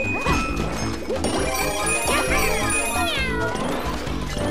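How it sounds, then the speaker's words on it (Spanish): Cartoon cat meows from Super Mario 3D World, several bright pitched mews over busy game music, sound effects and crashes throughout, fairly loud and continuous. "Aquí había unos gatos"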